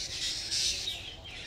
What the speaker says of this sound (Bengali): দেখছো পাখিদের কিচিরমিচির শুনতে পাচ্ছ আওয়াজ?